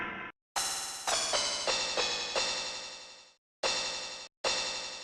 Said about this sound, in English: Like that crash cymbal got edited down so much to be this sound right here.